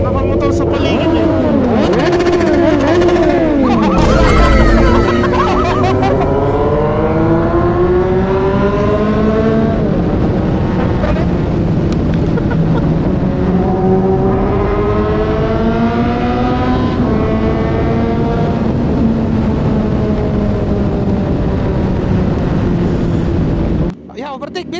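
A motorcycle engine revs hard with repeated rev-bomb blasts and loud throttle sweeps, rising and falling pitch over a long continuous stretch, with a sharp pop early on; voices shout over it.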